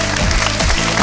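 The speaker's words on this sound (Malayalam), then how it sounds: "എല്ലാരും ഒന്ന് ക്ലാപ്പ് ചെയ്യണേ" A short burst of clapping from a stage show audience during a magic act, dense and continuous.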